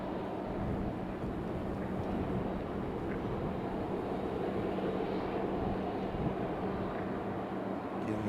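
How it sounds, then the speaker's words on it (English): Steady wind buffets the microphone at Raleigh-Durham International Airport, a continuous low rumble with a faint aircraft drone beneath it and no pauses. "It is a little windy here today."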